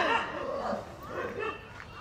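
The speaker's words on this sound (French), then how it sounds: "des chiens qui se battent" Several dogs fighting, with overlapping barks, yelps and whimpers in a noisy tangle, fairly close and continuous, mixed with what may be human voices.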